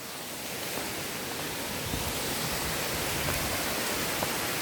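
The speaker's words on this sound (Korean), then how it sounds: "잠깐 폭포부터 구경하겠습니다." A waterfall on a hiking trail near a hermitage gives a constant, dense roar of falling water that holds steady and loud throughout, with no voices.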